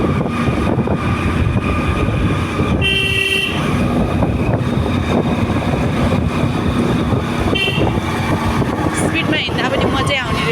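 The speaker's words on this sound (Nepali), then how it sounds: "यस्तो हर्न बजाएर हिँड्छ यार।" A vehicle horn gives two short toots, one near the middle and one toward the end, over constant loud engine and road rumble while riding along a dark road at night.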